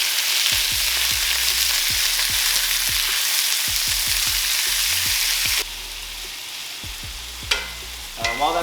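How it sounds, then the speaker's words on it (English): Chicken and finely chopped ginger sizzle loudly in a hot pan while a utensil scrapes and stirs them in repeated strokes, and the frying hiss carries on quieter near the end. "Put the chicken in there, and then also we'll add the ginger in there."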